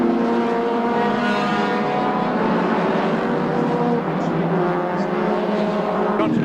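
Onboard engine of a racing car at Bathurst in a touring car race, a loud continuous high-revving roar with shifting engine pitch and steady mechanical drone throughout.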